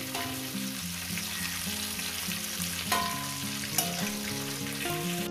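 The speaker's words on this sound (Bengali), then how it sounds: "ফুলকপিটা আমার ভাজা হয়ে গেছে, এবার আমি আস্তে আস্তে ফুলকপিগুলো আমি কষিয়ে নেব।" Cauliflower pieces frying in hot oil in a pan while being stirred for a cauliflower chicken dish, producing a steady close sizzle with occasional scraping stir knocks and no talk.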